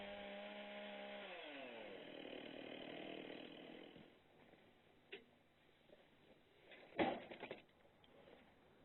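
A Logosol M7 sawmill chainsaw bites into a log, its engine droning loud and even for about four seconds and then cutting off, leaving faint clunks and a sharp knock near the end.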